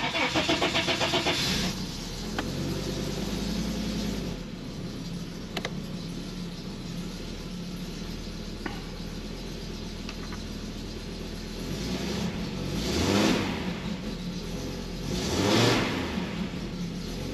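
An Audi 100 engine with a suspected vacuum leak idling close by, with a couple of swelling revs that rise and fall before settling back to a steady idle.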